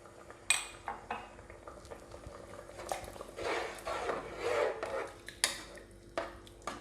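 A spoon stirring egg curry in a pot after hot water is added, producing intermittent scraping and clinking against the metal with soft sloshing, close and moderately loud, with no one speaking.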